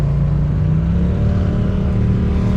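A car engine idles with a steady low rumble and revs slightly, running loud and continuous throughout with no voices.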